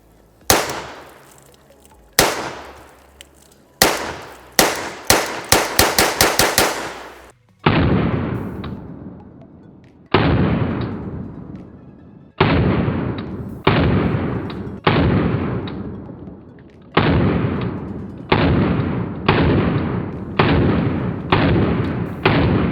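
Rapid shots from a less-lethal traumatic pistol firing rubber bullets at plastic bottles, loud sharp cracks in quick strings, a fast burst of about a dozen followed by slower, evenly spaced single shots, no talk.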